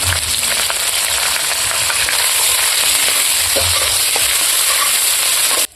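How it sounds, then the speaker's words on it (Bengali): Bay leaf, green chili, chopped onion and cumin fry in hot oil in a kadai, giving a loud, dense, continuous sizzle close up with a few faint stirring knocks. The sound cuts off at the end, and no one talks. "পেঁয়াজ, মরিচ, তেজপাতা তেলে ভাজা হয়ে গেছে"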